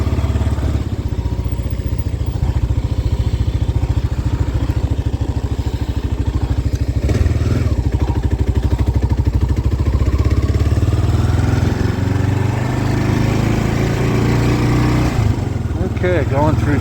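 A Gen 3 Kawasaki KLR 650 single-cylinder motorcycle rolls through town at low speed, its engine a loud, steady thump heard up close with wind noise, and a rider talks over it.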